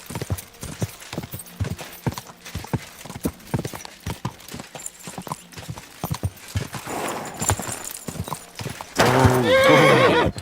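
Horse hooves clip-clopping at a steady trot in the medieval video game Kingdom Come: Deliverance II, close and rhythmic, then louder ambient noise as the horse gives a loud, drawn-out neigh at the end.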